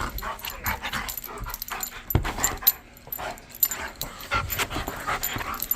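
A very large 140-pound dog whimpering and whining in soft, uneven bursts close by, with short breathy yips and pants between quiet gaps.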